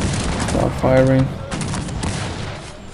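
Musket volley gunfire from the Cossacks 3 strategy game during an assault on the breached walls of Gigely, a dense crackle of shots with a tonal effect and a speaking voice over it.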